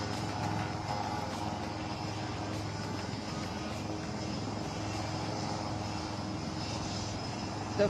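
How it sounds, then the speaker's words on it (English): Surya Kiran aerobatic team aircraft taking off at the Aero India 2023 air show, heard as a steady, sustained engine roar at some distance that holds level throughout. "We are standby for the Surya Kiran aerobatic team takeoff."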